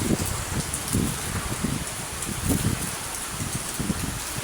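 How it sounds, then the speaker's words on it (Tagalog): Heavy typhoon rain pours steadily with strong wind during a power outage, a dense continuous hiss with irregular spatters and gusts throughout, no voices. "nakita nyo na malakas yung hangin, malakas yung ulan"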